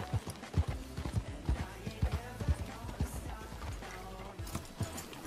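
A horse in Red Dead Redemption 2 gallops with a rhythmic, thudding clip-clop of hooves close by, accompanied by faint snorting and ambient game noise, while a voice talks intermittently.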